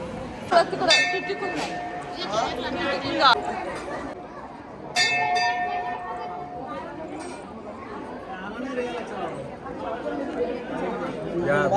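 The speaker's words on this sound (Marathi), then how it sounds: "गर्दी आहे थोडीशी" Crowd chatter fills the air near the Kalbhairavnath temple, with temple bells ringing and clinking over the steady murmur of many voices.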